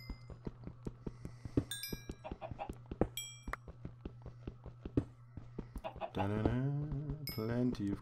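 Chickens cluck in Minecraft with short blocky footstep clicks, and longer harmonic calls near the end.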